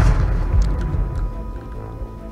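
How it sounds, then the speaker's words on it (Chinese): A small bomb fired from an orc cannon explodes in the Siege Saga video game, a low booming thud fading into a rumbling tail, with no talk. "这个炸弹好小一颗"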